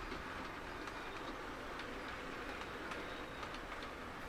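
A 00 gauge model train rushes past a station on a Southern Region layout without slowing, a steady broadband roar of wheels on rail with faint rhythmic clatter throughout.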